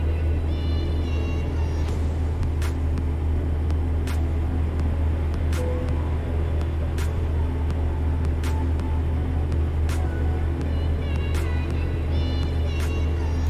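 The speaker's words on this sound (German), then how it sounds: "Tja, muss das Auto abbremsen." Steady, loud engine drone and low road rumble in American Truck Simulator while a car brakes behind the truck, punctuated by a series of short clicking ticks, with no voices.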